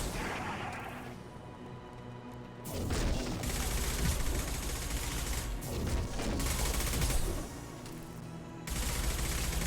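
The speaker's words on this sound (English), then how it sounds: "why am I the only one shooting this thing?" Sustained bursts of gunfire in the video game Mass Effect 2, a dense, continuous fusillade of rapid shots that swells louder after a brief lull, with no talking over it.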